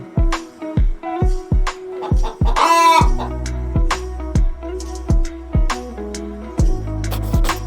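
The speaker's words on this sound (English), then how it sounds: "H for hen" A hen clucks in short, loud, evenly spaced bursts close up, with a brief crowing-like call near the start and a steady rhythmic beat running underneath.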